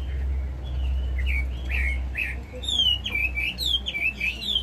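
A caged hwamei songbird sings a run of bright, varied whistled phrases close by, rising and falling in quick bursts over a low steady hum.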